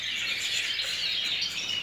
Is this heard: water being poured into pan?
no